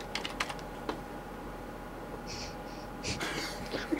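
Computer keyboard typing, a few brisk close key clicks at the start and a flurry of taps near the end, over a quiet hum with soft breathing sounds in between.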